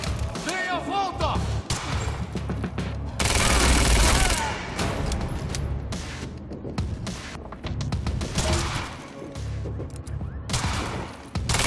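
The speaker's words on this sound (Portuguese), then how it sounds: "Continue atirando!" Gunfire bursts from the video game Quantum Break, with dense volleys and impacts in a chaotic firefight under excited character voices and music.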